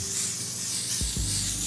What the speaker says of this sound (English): I don't like to spray it on my lace, but I do like to use it to adhere my lace